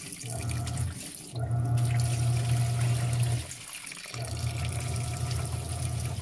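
A Panasonic Ag+ 16 kg washing machine filling with water, a steady rushing flow with a low hum that stops and restarts twice.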